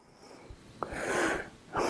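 Heavy, rasping panting from a person walking over the rocky ground of Shawka in the UAE, close breaths rising in two strong surges with a few faint footsteps between.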